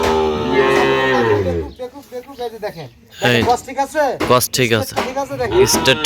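A Sahiwal bull calf gives one loud, long moo close by at the start. People then talk over a quieter background.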